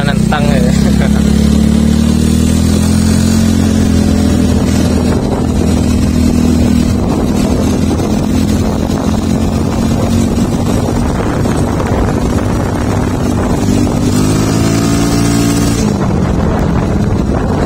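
A Yamaha Mio Smile scooter fitted with a ZRC exhaust revs steadily, a droning engine tone that rises in pitch near the end, close and loud with wind buffeting the microphone on a village road.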